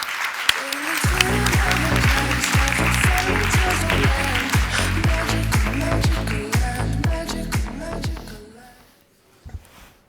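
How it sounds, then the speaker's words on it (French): At a graduation ceremony the hall applauds as a company director walks on stage, dense clapping under a loud rhythmic musical beat for about eight seconds before it fades out, with a few voices heard at the end. "On l'applaudit très fort."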